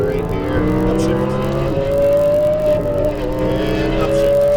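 An Audi R8 V10 accelerates hard on a track, the engine's rising roar climbing in pitch, then shifting up and climbing again, loud and close from inside the car.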